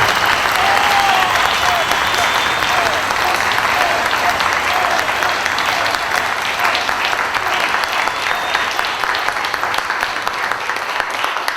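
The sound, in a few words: audience applause for Joshua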